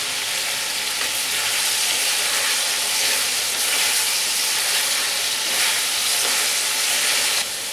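Tomato frying in a pan, a loud steady hiss and sizzle heard up close throughout.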